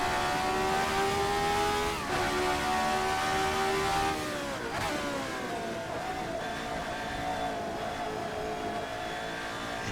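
RSS Formula 79 race car in a racing game, its engine droning loud and steady as it accelerates, the pitch climbing before a brief gearshift dip, then rising again under power.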